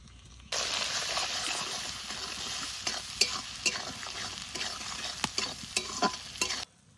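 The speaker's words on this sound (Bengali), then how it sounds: "মশলা ভালো করে কষিয়ে নিয়েছি" Ginger-garlic paste with green chili paste, Kashmiri chili powder, turmeric and salt sizzles steadily as it is stirred and fried in a pan. Sharp spoon scrapes and clicks punctuate the frying, which starts after a brief pause and cuts off just before the end.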